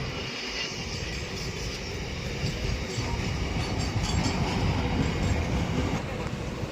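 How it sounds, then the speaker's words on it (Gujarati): A train rumbles past close by, a loud continuous roar of wheels and carriages that swells toward the end. "ટ્રેન છે."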